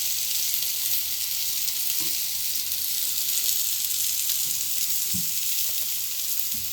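Brinjal (eggplant) slices frying in oil on a large tawa: a steady, close hiss of sizzling with a few faint soft taps from handling.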